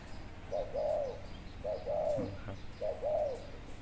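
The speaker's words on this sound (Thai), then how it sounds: "นี่เป็นนกคู่อ่างเน้อครับ" Three soft, rounded coos from a spotted dove, evenly spaced and fairly close, over a faint background hiss.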